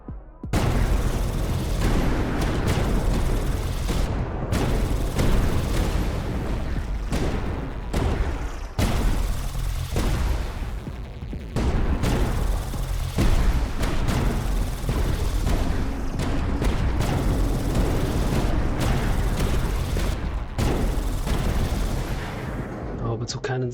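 Orbital cannons fire in the strategy game Tower Dominion, producing loud, dense volleys of booming blasts in rapid bursts with short gaps, sustained throughout.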